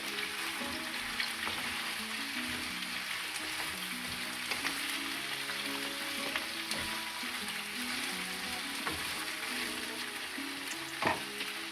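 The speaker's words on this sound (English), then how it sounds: "Okay, I'm just going to add my potatoes in. Okay, I'm just going to give it a quick stir." Potatoes frying in a pan and being stirred, a constant crackling sizzle with scattered spoon taps and scrapes, the last knock at the end louder than the rest.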